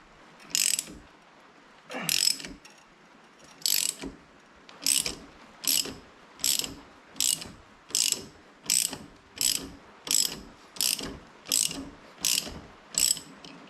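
Ratchet wrench tightening a clutch puller on a 2021 Can-Am Renegade 1000 ATV, about fourteen crisp, evenly spaced clicking strokes, close and fairly loud, with no talking.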